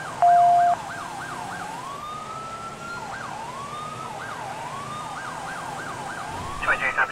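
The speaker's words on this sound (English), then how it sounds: "then this only has 2 siren tones" An LASD Caprice patrol car siren in LSPDFR wails in repeated rising yelps, then a long sweeping tone, then fast yelps again, steady and prominent with a faint engine hum beneath.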